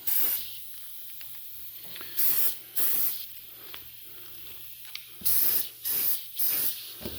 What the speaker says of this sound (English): we're starting the paint before we get on the model and ending it after we have sprayed past the model